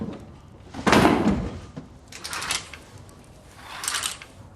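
Knocking on a door comes as three separate, fairly loud bursts spaced a second or more apart, with quiet room tone in between and no talking.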